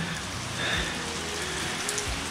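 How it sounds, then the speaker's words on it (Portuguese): Light rain falls steadily outdoors, a soft continuous patter on surfaces at moderate level throughout, with no voices. "Ó, chuvinha gostosa."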